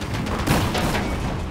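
Gunfire in Battlefield 4 bursts out in a short, dense volley of booming shots that fill the brief moment loud and close.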